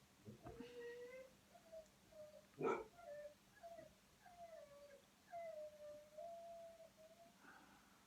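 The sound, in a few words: dogs whimpering and barking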